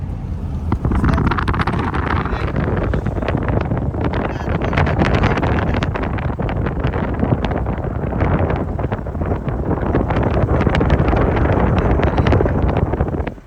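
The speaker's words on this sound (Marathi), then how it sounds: "मस्त हवा थंडगार हवा" Strong wind roars continuously across the microphone on a desert road trip toward Jaisalmer, a loud, dense, buffeting rush with no breaks.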